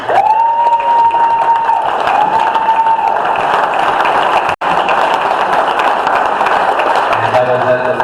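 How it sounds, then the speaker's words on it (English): An audience at a general meeting applauds, with dense clapping and some cheering filling the room, and a few faint voices mixed into the crowd noise. "Let's give them a round of applause."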